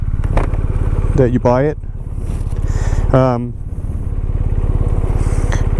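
A motorcycle ridden at steady speed, its engine droning and humming continuously throughout, with a person talking over it.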